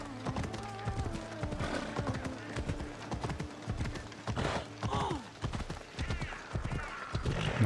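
Rapid, rhythmic clip-clop of horse hooves galloping in the video game Assassin's Creed Odyssey, close and steady throughout, with a brief whinny and someone speaking over the hoofbeats.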